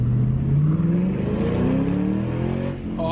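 A Ford Mustang GT with Borla ATAK mufflers accelerates hard in first gear, its loud exhaust note rising steadily in pitch as the revs climb, close and without talk.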